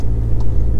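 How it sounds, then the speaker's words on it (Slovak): A car passing on a narrow access road at a caravan campsite, a brief loud low engine drone close by. "No, že tu idú akurát auta, musím ich pustiť."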